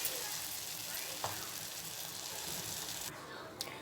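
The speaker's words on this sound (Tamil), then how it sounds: "மிச்சம் இருக்கிற பிரெட்டையும் இதே மாதிரி போட்டு பொரிச்சு எடுத்துக்கலாம்." Bread pieces deep-frying in hot oil for bread 65 give a steady, hissing sizzle throughout, close by, with a couple of faint clicks from a utensil near the end.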